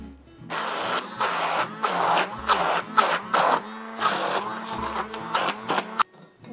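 A blender purées drained lentils, whirring loud and close in surging bursts that rise and fall, briefly dropping out near the end.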